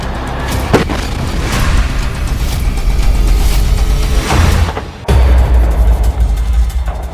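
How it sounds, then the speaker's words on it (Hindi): Explosions from Hamas rockets striking Israeli tanks in Gaza: loud, continuous booming and rumbling blasts with a sharp burst near the start and a fresh heavy blast about two thirds through. "हमास के रॉकेट इजरायली टैंकों के हैच वाले यानी ऊपरी हिस्से पर सीधा हमला कर रहे हैं"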